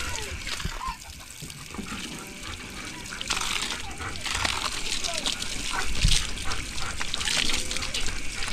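Feet being rinsed with river water after coming from the river, splashing and sloshing steadily over a broad wash of flowing water, with voices talking over it.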